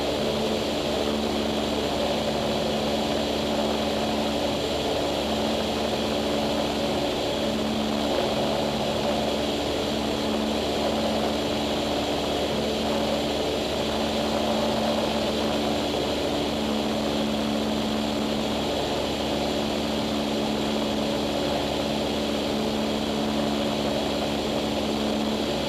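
A small single-engine propeller airplane drones loud and steady from inside the cockpit during a solo training takeoff, a constant engine hum with a strong tonal whine running unbroken for the whole stretch.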